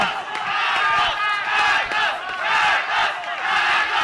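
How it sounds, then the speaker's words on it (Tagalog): A boxing crowd chants in unison at a fight, a loud, rhythmic swell of many voices rising and falling in repeated waves. "And the crowd chanting"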